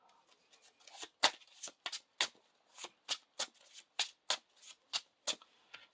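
Playing cards from a Lord of the Rings card game deck are handled and flicked close up, a quick series of crisp papery snaps and slides in an uneven rhythm, with no voices.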